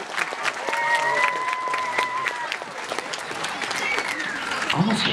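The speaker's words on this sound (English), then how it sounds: "everybody give them a round of applause" A crowd applauds gamers on stage at a gaming convention, with dense clapping running throughout and some voices mixed in.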